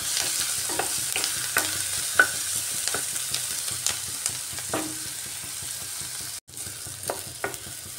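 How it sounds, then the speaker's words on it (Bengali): Onions being fried hard in oil for an egg kosa curry sizzle steadily up close, broken by repeated sharp clicks of stirring and a brief pause partway through. "পেঁয়াজটা একটু কড়া করে ভাজলে, এর জন্য একটু কড়া করে ভেজে নিচ্ছি।"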